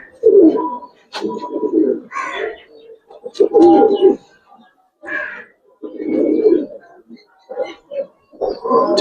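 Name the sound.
Giribaz pigeon cooing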